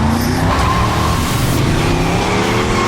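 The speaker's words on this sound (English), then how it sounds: "We spent about 5 months teaching Keanu how to drift and do the car stunts, including a reverse 180, 360, what we call an in-out, and a 540 drift" A 1971 Barracuda muscle car drifts around a roundabout, tires skidding and squealing continuously with a loud, close engine roar throughout.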